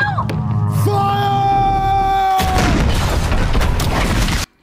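Cannon fire from a pirate ship battle in Pirates of the Caribbean: Dead Man's Chest: a loud, sustained booming roar of several shots that follows shouted commands and a swell of music, then cuts off abruptly.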